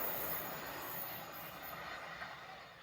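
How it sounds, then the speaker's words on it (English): A railtour train passing near Malton on the bypass line, with a steady rumble, wheel noise and a high squeal, fairly distant and even throughout, no talk. "Now the railtour doesn't have to wait for that one to clear, because the railtour can use the bypass line at Malton."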